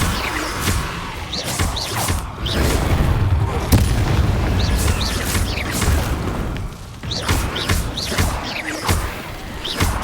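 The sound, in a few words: Confringo and Bombarda spell blasts in Hogwarts Legacy video game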